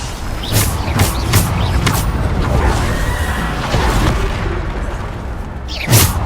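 Spell blasts from a Bombarda curse during a duel in Hogwarts Legacy, a string of sharp bursts with booming impacts spread over several seconds and a final loud crack near the end, set against steady game ambience.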